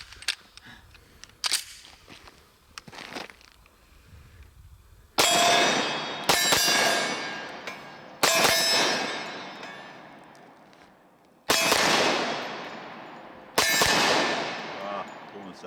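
Glock 29 10mm pistol firing outdoors, five loud sharp gunshots spaced a second or two apart, each with a ringing decay, following some quieter clicks and handling noises.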